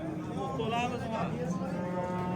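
A cow lowing with a drawn-out tonal moo at a crowded livestock market, heard close amid a steady hubbub of voices and people talking nearby.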